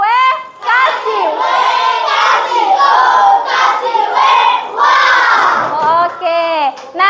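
Classroom children shout and cheer together in a loud, continuous group chant with rhythmic claps, the WOW cheer filling the room for about seven seconds.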